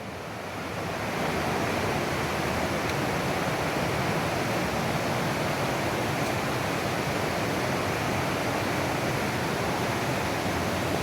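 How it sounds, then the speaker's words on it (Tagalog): Fast-flowing river swollen by typhoon rains, a steady, loud broadband rush of churning water that fills the whole stretch without pause and drowns out any other sound. "Grabe yung ilog, malakas. Kasi may bagyo kasi ngayon dito, eh."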